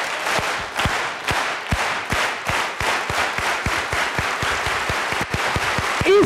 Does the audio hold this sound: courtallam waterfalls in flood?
no